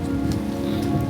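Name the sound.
hail falling and bouncing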